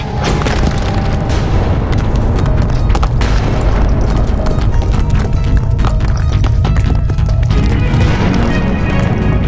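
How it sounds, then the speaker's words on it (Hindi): A mountain blast rumbles into heavy, continuous booming with crashing debris and dense pounding impacts, loud and sustained throughout. "ये तो पर्वत में विस्फोट हुआ है। चट्टानें उड़कर कहीं भी गिर सकती है।"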